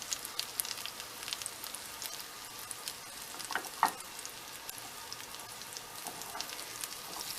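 Homemade dog treats fry in olive oil in a pan, making a continuous gentle sizzle with a few brief spatula scrapes, close and moderately quiet.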